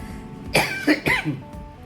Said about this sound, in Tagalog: Grabe, inuubo ako guys